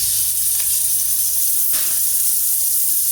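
Tomato puree hitting a hot pan while cooking aloo gobi, giving a steady hissing sizzle throughout with a brief brighter burst midway, close and fairly loud with no talking.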